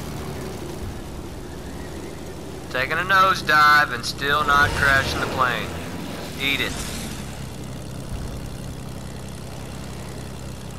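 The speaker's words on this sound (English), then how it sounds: "Taking a nosedive and still not crashing the plane." A plane's engine drones steadily in flight in Fortnite, going into a nosedive without crashing, with a continuous hum under a voice that briefly talks over it.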